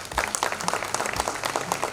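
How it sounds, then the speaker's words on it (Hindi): An award-ceremony audience honoring mountaineers breaks into brief, dense applause, a close wash of many hands clapping with no talk over it. "आपके तालियों की ज़रूरत है"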